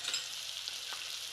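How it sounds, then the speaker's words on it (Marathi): Cumin seeds fry in a pan with onion and tomato for shev bhaji, giving a soft, steady sizzle with faint stirring scrapes, close and quiet with no voices. "दोन्ही छान परतून घेऊया आणि जिरे टाकूया."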